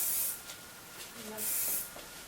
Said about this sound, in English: Now we're going to spray with Fashion Work Hairspray to kind of lock everything in.